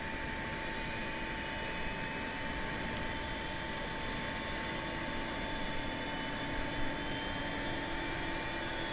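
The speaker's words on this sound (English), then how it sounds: "The startup sounds on this airplane are really pretty good." A steady, droning jet engine whine hums at a constant level with no voices, an Airbus A300-600 airliner spooling up in a flight simulator.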